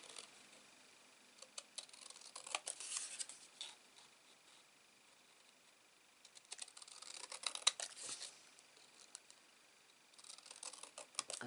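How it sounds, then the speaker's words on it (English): Paper card being cut out with scissors, faint close snips and rustles in three clusters separated by quiet pauses, no voices. "I'm going to continue to cut this out"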